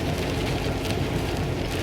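Torrential rain pours down during a road trip from Hamburg toward the frozen north, a dense, steady roaring hiss with no pauses or voices.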